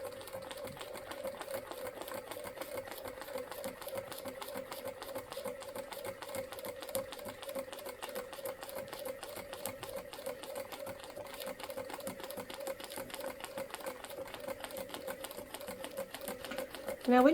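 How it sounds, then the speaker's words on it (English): A sewing machine stitches through painted fabric on a quilt storage box, its needle hammering in a rapid, even mechanical rhythm with a steady motor hum that carries on throughout, followed by a brief louder knock at the end. "when you stitch through paint, it will make a funny tuck noise"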